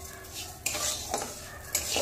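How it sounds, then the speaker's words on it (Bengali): Rice frying in ghee for muri ghonto, a steady sizzle with metal spatula scrapes and clinks against the pan at a few points, no talking. "মুড়ি ঘন্টর মধ্যে সবসময় এভাবে ঘিয়ে ভেজে চালটাকে তারপরে রান্না করলে খেতে কিন্তু দারুণ টেস্ট হয়"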